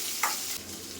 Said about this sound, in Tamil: நீளமாக நறுக்கி வச்சுருக்க ஒரு பெரிய வெங்காயத்தை இதில் சேர்த்துக்கலாம்.